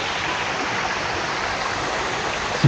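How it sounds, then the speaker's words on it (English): A small resort waterfall pours in a steady, loud, dense rush of falling water that holds even and unbroken throughout, with no voices. "You have a little waterfall"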